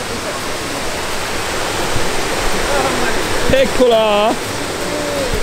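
Water cascading in the Trevi Fountain in Rome, a steady loud rushing wash filling the scene throughout, with a brief burst of excited voices and talk rising over it near the end.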